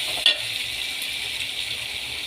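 Chopped onions sauté with salt in a hot pan for a fish curry made without coconut, giving a steady, close sizzle with one small clink near the start.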